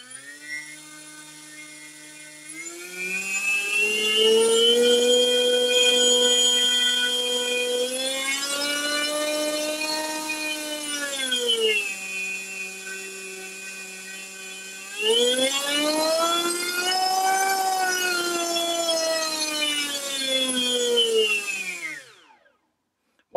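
Drone motor spinning a 4045 propeller on a thrust stand on a 4-cell battery, a close, loud whining tone that spools up, holds, dips and surges again at full throttle before winding down.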